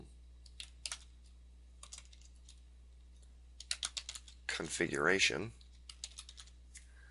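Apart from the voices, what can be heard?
typing on a computer keyboard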